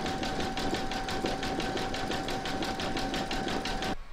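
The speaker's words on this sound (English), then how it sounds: "Pop your hoop into your machine and you're now going to stitch round number 11, and that's going to zigzag along this join here." An embroidery machine zigzag-stitches along the join of a scalloped placemat in its hoop, a steady rapid mechanical chatter with an even pulse of needle strokes that stops abruptly near the end.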